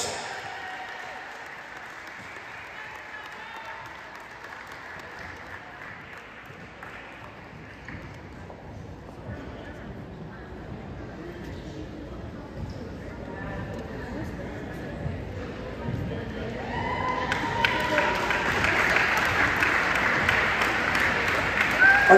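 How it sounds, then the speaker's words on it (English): Crowd applause during a senior ceremony at a college basketball game between Holy Family and Jefferson, with sustained clapping and hubbub in a gym that swells louder toward the end, mixed with background voices. "have another round of applause for Dakota Schultzeis."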